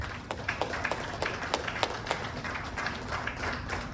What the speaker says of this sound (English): the CEO, the co-founder do deserve a great applause from all of you for this phenomenal achievement